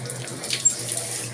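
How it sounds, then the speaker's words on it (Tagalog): Water leaking from a Samsung automatic washing machine runs in a steady, close stream like a tap, with a faint low hum underneath and no voices. "Nagli-leak po yung tubig niya."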